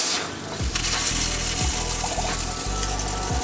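Water mixed with pink antifreeze running from a van's cold faucet into a sink, a steady close splashing stream that starts abruptly and continues alone.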